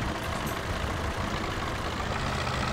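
MTZ-80 tractor engine in the Spin Tires off-road driving game mod, a steady low diesel rumble running continuously and fairly loud with no breaks.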